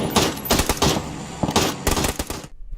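Automatic fire from an MK14 rifle in the PUBG video game rattles out in dense rapid bursts, loud and close, ending abruptly near the close.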